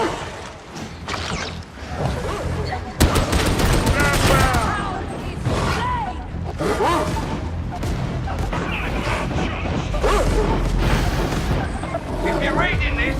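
Video game combat: bursts of gunfire and booming blasts ring out over loud, continuous shouting voices and mechanical clatter, dense and close throughout.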